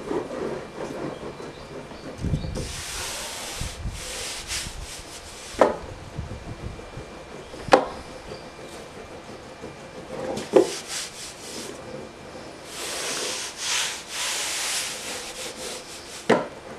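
Hand sanding of real wood veneer on a vintage hi-fi cabinet, sandpaper on a block rubbing in bursts of repeated strokes, with a few sharp knocks between passes and no talking.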